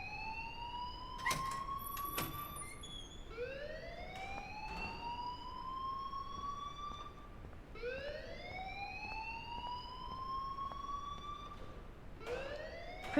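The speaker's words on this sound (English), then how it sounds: "please turn off that alarm" A school alarm wails in the Life is Strange video game, repeating rising electronic sweeps every few seconds at moderate, steady volume, with a couple of brief clanks mixed in.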